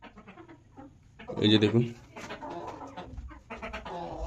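Layer hens on a small farm cluck in a brief loud burst near the middle, surrounded by softer poultry sounds while someone talks nearby.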